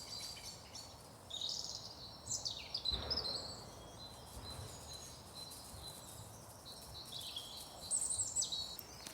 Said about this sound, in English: hopefully you've enjoyed sort of listening to the birds like I have this morning